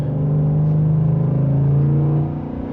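A 5.0L V8 in a Ford F-150 Lariat pickup hums steadily under light throttle, a low droning engine note rising slightly before easing off near the end, heard from inside the cab with no talk.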